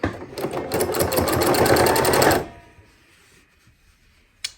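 A sewing machine stitches denim quilt blocks at a long stitch length, a fast loud mechanical rattle running steadily for about two seconds, then stopping into near quiet with a small click at the end.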